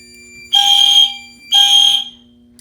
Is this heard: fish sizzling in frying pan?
no